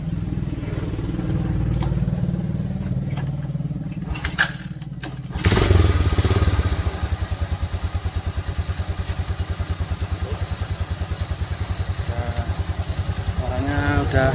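A Yamaha Vega/Jupiter/Crypton motorcycle engine starts on its test run after a piston install: clattering and thumps at first, then the single-cylinder engine catches and idles in a rapid, steady, close putter.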